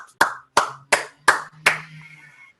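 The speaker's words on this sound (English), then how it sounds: "I feel like we need to clap it up for Destiny right there" Five slow, deliberate hand claps, loud and close, evenly spaced at a town hall meeting in the South Bronx in honor of a student named Destiny, each sharp crack ringing briefly in a quiet room.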